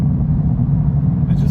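A tuned BMW E46 exhaust rumbles loud and close with a deep, steady low drone and no clear pops, while a voice talks over it.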